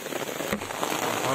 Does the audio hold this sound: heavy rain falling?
yes